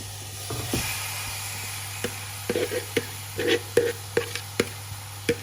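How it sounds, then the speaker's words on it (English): Chicken keema mince hits hot oil in a pan and sizzles with a steady hiss, while scattered spoon clinks and stirring scrapes sound close by over the constant frying. "And then we're just going to add the keema."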